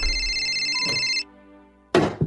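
A mobile phone rings with a steady electronic tone for about a second, then goes quiet. A sharp thump follows as the phone is thrown.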